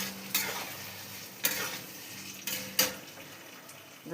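Fried potatoes being stirred into cashew tomato gravy in a pan, with four distinct scraping strokes of a spoon against the pan over a low, steady sizzle, no voices.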